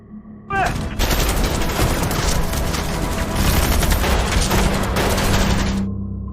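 A sustained volley of rapid gunfire erupts after a brief tone, dense overlapping shots crackling loudly for about five seconds before cutting off.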